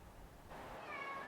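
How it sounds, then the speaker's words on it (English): A cat gives a single drawn-out meow close by indoors, rising then trailing off over quiet room noise. "The cat is meowing."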